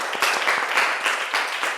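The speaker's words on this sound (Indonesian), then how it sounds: "Tepuk tangan buat kalian." Classroom of children applauding together, a dense, steady patter of many hands clapping nearby for under two seconds with no talk over it.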